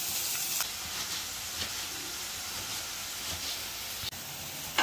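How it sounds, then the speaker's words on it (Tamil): Chopped onion, ginger and garlic sauté in a pan with a steady, close sizzle, broken by a few faint utensil clicks as they are stirred. "இந்த வெங்காயம் இஞ்சி பூண்டு எல்லாம் நல்லா வதங்கினதும் தக்காளி போட்டுக்கலாம்"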